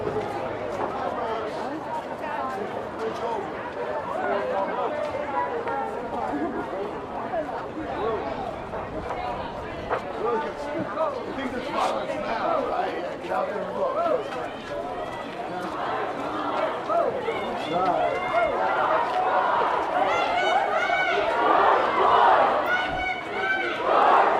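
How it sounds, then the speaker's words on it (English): A protest crowd marching from the Hall of Records toward the courthouse in Freehold, a continuous murmur of many voices with shouts and footsteps, steady and fairly close, with a voice speaking over it. "the crowd beginning to leave the Hall of Records here, beginning their march to the courthouse"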